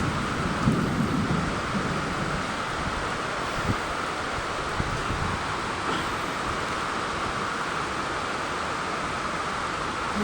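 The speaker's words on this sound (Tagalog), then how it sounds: "Sobrang lakas ng ulan." Very heavy rain pours down in a steady dense hiss with a few faint thuds and rumbles, loud and continuous throughout, no voices.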